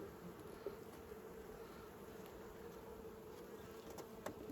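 Honeybee swarm buzzing steadily at a hive in the evening, a dense, continuous hum of many bees close by with no talk.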